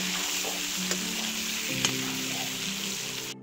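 Potato pieces fry in oil that was just used for prawns, producing a loud, continuous close sizzle with a couple of brief pops and clicks.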